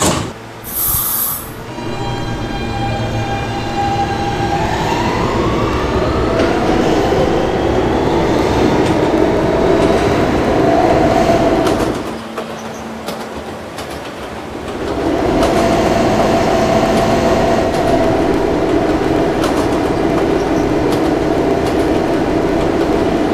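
Kawasaki R160 New York subway E train running toward Union Turnpike, a loud sustained rumble of wheels and motors with rising whine, clacking rail joints, a brief quieter stretch, then the roar resuming.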